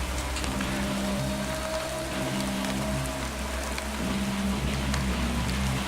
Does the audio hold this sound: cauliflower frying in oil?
no